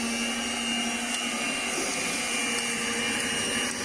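Electric whisk running steadily as it mashes cooked soybeans for homemade miso paste, a loud continuous motor whine with a steady pitch that holds through the whole stretch, no talking over it.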